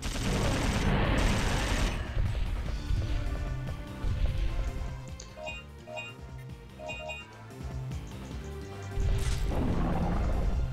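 Submachine gun fire in Dino Crisis 2 is heard as dense, loud bursts of rapid gunfire with crashing impacts, set among game music and effects, with the firing heaviest at the start and end.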